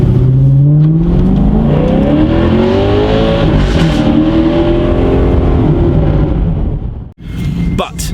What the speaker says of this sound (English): you can't beat a V8 noise